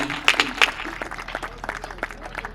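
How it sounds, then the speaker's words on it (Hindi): Scattered applause from an audience at a Hindi kavi sammelan poetry gathering, a few sharp claps up front thinning into lighter, uneven clapping across a few seconds. "जोरदार तालियां बजाकर डॉक्टर मंजू जी को आमंत्रित करिए।"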